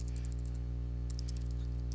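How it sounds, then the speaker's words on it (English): Rapid, light keystrokes of typing on a computer keyboard, two short bursts of clicks over a steady low electrical hum while text is entered into a Google Sites page. "so I could come over here and start typing"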